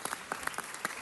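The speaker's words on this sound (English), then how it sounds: "Give Jimmy a round of applause." Audience applause at a Los Angeles City Council presentation for LGBT Heritage Month, a brief burst of scattered hand claps, moderately close and fairly sparse, with no talk over it.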